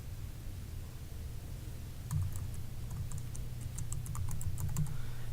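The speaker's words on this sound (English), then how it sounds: "Next, I'll type in my email address as well." Computer keyboard typing while an email address is entered, quiet steady key clicks starting about two seconds in and continuing in uneven bursts over a low room hum, with no talking.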